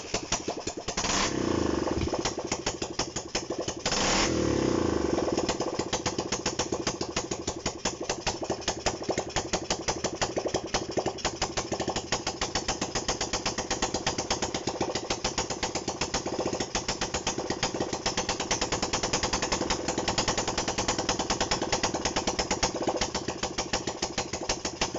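A Honda CB125 RS motorcycle under restoration runs unevenly, its engine chugging at a steady idle with slight throttle blips, loud and close throughout with a rough, continuous mechanical rattle.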